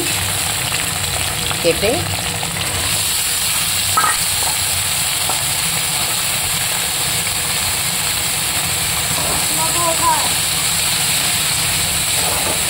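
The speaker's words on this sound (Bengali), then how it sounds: "आज के देखो पियाज भाजा होच्छे, भात फ्राई होबे।" Onion, potato and peas sizzle steadily in hot oil for fried rice, a loud continuous crackling hiss with a few faint clinks; a single spoken word is heard briefly over the frying.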